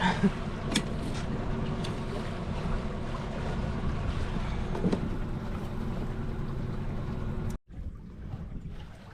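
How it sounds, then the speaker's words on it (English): A MacGregor 26M sailboat under sail with the motor off, water rushing steadily along the hull with wind noise, constant and close, then a sudden brief dropout followed by quieter water sounds. "now that we got some nice wind coming from behind us, we turn the motor off. We are sailing."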